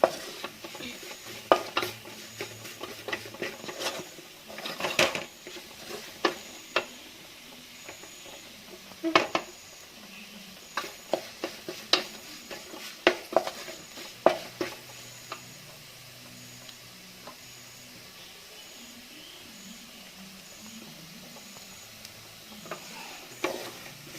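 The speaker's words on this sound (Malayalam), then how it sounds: "കരിഞ്ഞു പോകാതെ നന്നായി ഇളക്കി കൊടുക്കണം" Coconut and spices stirred while frying for a coconut fried chicken curry: irregular close scrapes and clinks of a spoon against the pan over a soft, steady sizzle.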